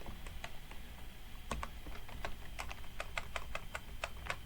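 Keys clatter steadily on a computer keyboard during an SSH session to a FreeBSD machine, a close run of sharp, irregular clicks with no talking.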